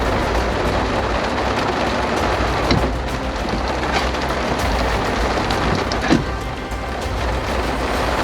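Steady, dense downpour of heavy rain during a storm with tornado warnings, drumming continuously on surfaces, with a few sharper drops or knocks standing out near the middle and toward the end.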